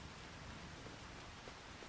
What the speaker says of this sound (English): Spring rain, you could never predict them.